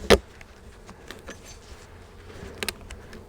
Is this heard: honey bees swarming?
yes